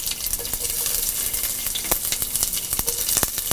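Curry leaves and ginger hit hot oil with urad dal for upma, producing a dense, bright crackling sizzle that runs steadily throughout with sharp spits and pops, close up and alone.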